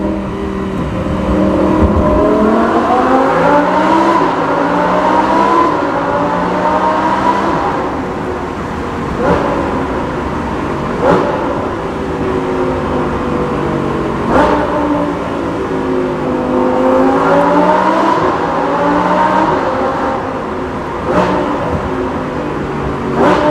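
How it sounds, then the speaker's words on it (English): Lamborghini Huracan Performante fitted with a Kline-Innovation Inconel exhaust accelerating hard, its engine note climbing in loud, sweeping rises that repeat with sharp crackles and gear-change breaks, close and continuous with no talking. "What you just heard is the Kline-Innovation Inconel exhaust system for the Lamborghini"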